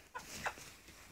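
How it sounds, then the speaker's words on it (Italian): A small Livorno hen in a backyard coop gives a couple of soft, brief clucks close by, quiet and short against faint background noise. "questa è una gallina"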